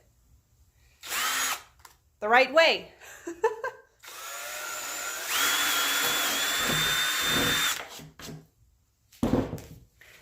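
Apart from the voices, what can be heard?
power drill driving into wood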